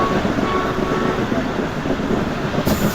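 The Karakoram Express runs on the rails in winter, heard from inside an economy class carriage as a loud, steady rumble with a constant rolling roar.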